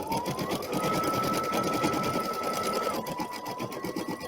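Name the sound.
embroidery machine stitching a face onto toilet paper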